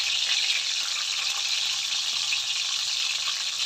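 White cumin seeds sizzle in hot oil with an even, close, bright hiss that holds steady throughout, with no talking.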